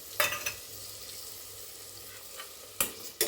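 Onion pieces for a veg biryani fry in a pan with a steady, soft sizzle. A few sharper stirring scrapes and clinks cut through the sizzle. It sounds close and moderately quiet, with no voices.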